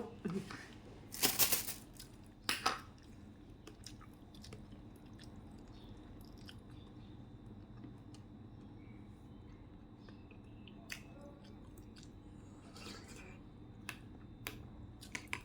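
Someone eating shrimp rice porridge, with soft wet chewing and a few sharper clicks near the start, then faint intermittent mouth sounds and small ticks over a quiet room, some voice murmurs.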